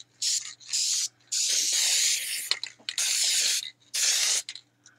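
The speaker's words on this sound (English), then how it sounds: "you're just going to spray it into your water." Loud hissing bursts of a silver spray paint can sprayed into water, several sprays of varying length separated by short pauses, close to the microphone.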